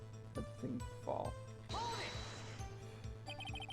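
A glass light stand topples and shatters in the Ace Attorney courtroom game, a bright crash with a sustained glassy burst and smaller tinkling debris settling afterward, heard over a steady low music bed.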